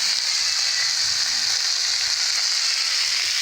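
Fish pieces, varagan and jilebi kal meen, frying in a shallow layer of oil with a steady, bright sizzling hiss that stays even throughout, alongside faint low clatters from the pan.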